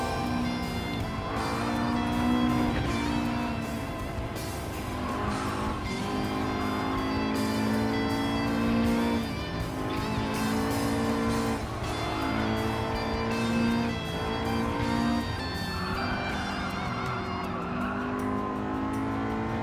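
A race car in Gran Turismo 7 driven at full throttle, its engine roaring loudly and continuously with rising and falling revs through gear changes, tires squealing at times, no talking.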